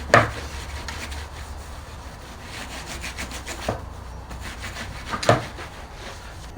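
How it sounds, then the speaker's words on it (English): Close, dry rubbing of wax polish worked by hand onto a wooden piece over a repaired crack, a steady scuffing texture broken by a few sharper knocks. "Rub with a bit of wax."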